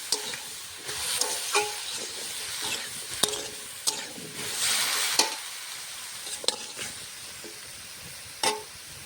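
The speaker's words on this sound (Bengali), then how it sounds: "ওইখানে সবজিটা ভাজা হচ্ছে" Vegetables frying in a pan give off a continuous sizzling hiss, broken by scattered sharper clinks and scrapes of stirring, fairly close with no voices.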